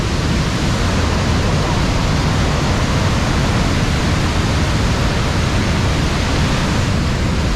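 A waterfall on the US-Canada border roars loud and close, a dense, unbroken rush of falling water that fills the whole stretch without letting up.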